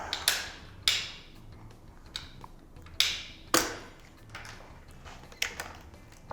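Folding a Lectric XP Lite 2.0 e-bike: a few sharp metallic clicks and clacks from hinges and handlebars snapping into place, close and spaced irregularly over a quiet background.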